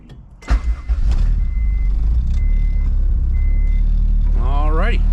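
A Honda CR-V engine cranks briefly and catches, then settles into a steady, loud idle that continues to the end, with a faint rising whine near the close.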